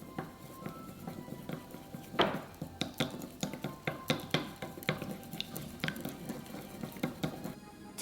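Tantanmen ramen sauce being stirred with chili oil in a bowl: a quick, steady run of spoon clinks and tapping against the bowl, with soft wet squishing, close and fairly quiet.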